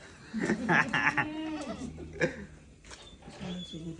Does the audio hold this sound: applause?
no